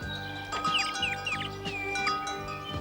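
A small cartoon bird chirps in a short run of high, bright tweets, several quick calls in a row over a soft bed of background music.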